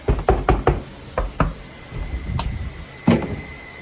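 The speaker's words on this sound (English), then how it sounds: "this time with some annoying and incessant knocking" Sharp knocks on a door or wall, credited to a poltergeist, come in a rapid cluster of about five, then spaced raps and a final hard knock, loud and close with no voices.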